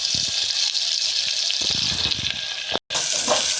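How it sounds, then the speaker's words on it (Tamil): Chopped onions sizzle steadily in hot oil with already-popped mustard seeds while being sautéed for a brinjal puli kuzhambu. A continuous bright frying hiss runs close and fairly loud throughout, with a brief dropout near the end. "வெங்காயத்தை நல்லா வதக்கிக்கோங்க."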